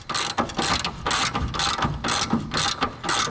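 Ratchet wrench tightening the bottom bolts on an abandoned junkyard 300 engine, loud close rapid clicking bursts repeated in a steady rhythm with brief pauses between strokes.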